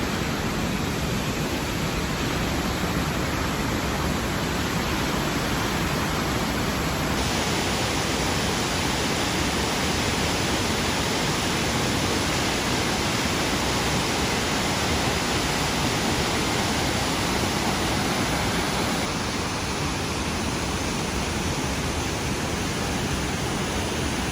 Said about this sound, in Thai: จะได้ยินเสียงน้ำตกสู้ๆซ่าๆอยู่ นี่ครับ น้ำตก